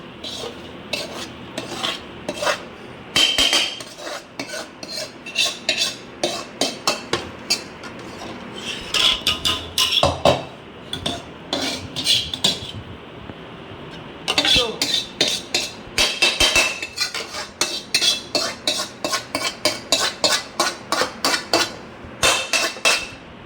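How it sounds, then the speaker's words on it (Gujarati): Flour is stirred into sugar syrup in a pot for ravapak, on a farm. A spoon knocks and scrapes in rapid rhythmic bursts, loud and close, with short pauses between runs of strokes. "હવે આને આપણે એકદમ રીતે હલાવી નાખીએ"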